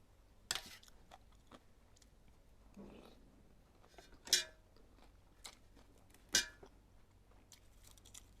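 Crisp crunches of fresh filet salad lettuce being bitten and chewed, a few sharp bursts spaced a second or two apart against a quiet background.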